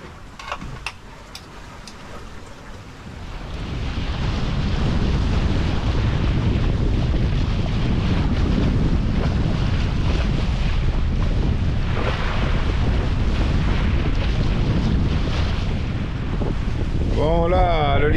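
Steady wind roars across a sailboat under way at sea off the Mediterranean coast between Port Leucate and Argelès in about 10 to 11 knots of breeze, a loud continuous buffeting rush with water noise beneath, alone without talk.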